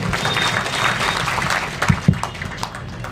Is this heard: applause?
yes